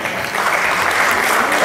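Audience applause at an Italian cabaret show fills the room in a dense, steady wash of clapping, loud and continuous throughout with no voices over it.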